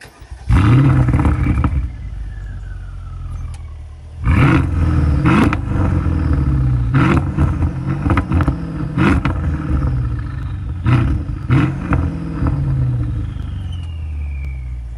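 A 2017 Mercedes-Benz S500 AMG engine being revved in repeated bursts: deep roaring rises that fall back to idle between blips. The revs are loud and close, with no talking.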